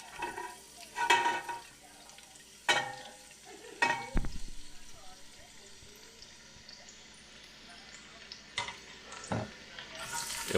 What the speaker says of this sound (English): saute those down till they start releasing their sugars and getting translucent